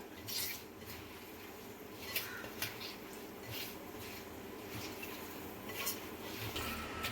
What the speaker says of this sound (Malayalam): സവാള ഇഞ്ചി പച്ചമുളക് കറിവേപ്പില ഉപ്പ് വെളിച്ചെണ്ണ വിനാഗിരി ചേർത്തിട്ട് തിരുമ്മുകയാണ്